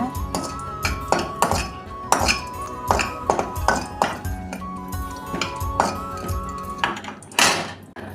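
Dried red chillies being sautéed in a pan for peanut chutney, heard as repeated close metallic clinks and scrapes of a utensil against the pan in an irregular rhythm, with no talking.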